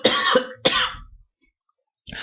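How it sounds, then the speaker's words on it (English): Two sharp, close coughs in quick succession, followed by a brief silence and a faint breath or throat sound. "Sorry, I want to cough."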